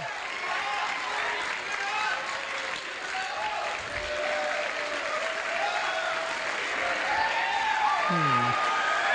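A conference championship team gets a big round of applause and a standing ovation from an audience, steady sustained clapping and crowd noise filling the room, with voices and cheers mixed in throughout.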